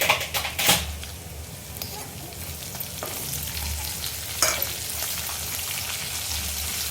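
Green chillies and a pinch of asafoetida frying in oil with red chilli, a steady moderate crackling sizzle with a few utensil clinks and scrapes near the start and middle.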